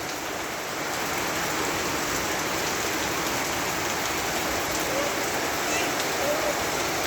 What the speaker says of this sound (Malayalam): നമ്മളെ കോട്ടയ്ക്കൽ കോഴിച്ചിൻ്റെ ഭാഗങ്ങളിൽ മഴ കേട്ടോ.